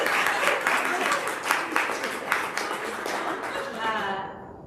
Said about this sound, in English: Let's just give a round of applause for those figures on the.